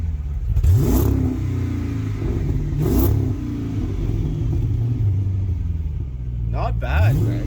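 Chrysler 300C with a custom-fitted exhaust, deep rumbling idle punctuated by three sharp revs, close and loud, with a voice heard faintly alongside.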